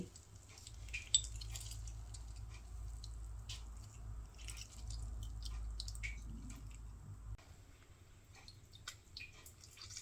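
Lemon juice strained through a strainer to catch the seeds, a faint trickle and scattered close drips and patters over a low background hum.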